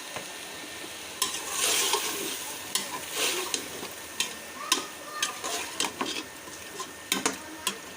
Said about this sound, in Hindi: और इसे अच्छे से मिक्स करूँगी। और हाफ़ टेबल स्पून में इसके अंदर हल्दी पाउडर ऐड करूँगा।